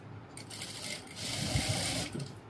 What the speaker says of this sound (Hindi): अब इसमें हम एक पैर का मार्जिन रख के और इसमें हम सिलाई मारेंगे